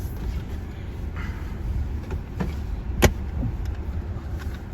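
Steady low rumble of a new car rolling along on a test drive, heard from inside the cabin with a brief sharp click or knock midway and faint background chatter.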